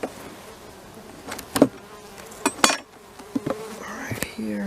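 Bees buzz softly at close range in a hive with wax moth damage, with scattered sharp clicks and knocks breaking through the low hum.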